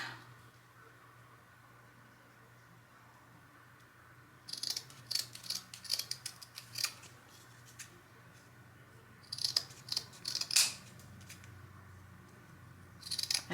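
Scissors cut burlap for a Christmas ornament, quiet crisp snipping in short bursts close by, separated by a near-silent pause, against a faint background hum.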